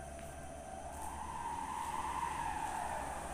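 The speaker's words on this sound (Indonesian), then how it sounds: "mohon maaf ya teman-teman bila mana banyak suara-suara mobil atau motor. Soalnya di sini bertepatan di pinggir jalan" Traffic on a roadside street, a car or motorbike passing with a rising, swelling engine and tire whoosh under a faint steady background rumble, no talking.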